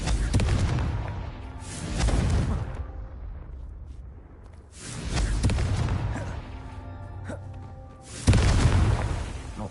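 Confringo blasting spells detonate in Hogwarts Legacy as three heavy, booming explosions spaced a few seconds apart, each a loud burst that rumbles away into quieter background.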